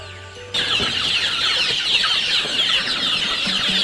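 Chickens nearly ready for harvest clucking and chattering in a crowded farm coop, a steady dense din of many birds close by that starts abruptly and carries on without pause.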